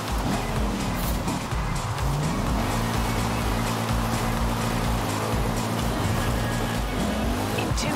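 A car in the Forza Horizon 5 racing game drifts with continuous engine roar and sustained tire squeal, the revving pitch rising and falling as the car slides.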